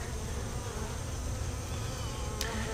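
A queen-right honeybee colony hums in its opened hive box, a thick, even buzzing held close and constant throughout with no talking.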